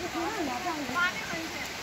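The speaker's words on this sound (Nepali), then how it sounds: "यत्रो झरना कहाँ हो" A waterfall on a hike near Muhan Pokhari toward Green Valley Resort, its steady broadband rush continuous beneath close, excited talk.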